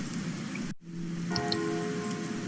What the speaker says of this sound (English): all I heard was the sound of raindrops on umbrellas.